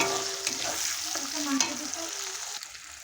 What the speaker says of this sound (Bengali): টমেটো দিয়ে লাল করতে আমি ভালো করে নেড়ে চেড়ে লাল করে কষিয়ে নেব